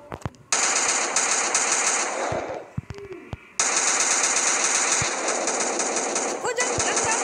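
Rapid automatic gunfire rattles in the sandbox video game Garry's Mod Mobile, long dense bursts broken by short gaps, loud and close, with a voice speaking briefly between bursts.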